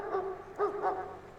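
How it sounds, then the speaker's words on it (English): A dog in the Farming Simulator 22 video game gives a few short barks at a steady pace, moderately loud and close, with no voices over it. "Yeah, I don't know where that dog is."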